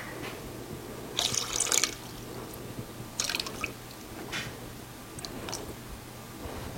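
Water is poured into a container while 22 ounces are measured out: short, close bursts of splashing and trickling separated by brief pauses, with no talking.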